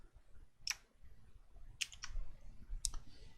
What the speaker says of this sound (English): So we'll type in nav.